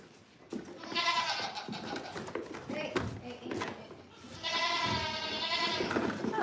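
Baby goats bleat at play in two bursts, near and fairly loud, with wavering cries, soft scuffling, and a voice talking underneath.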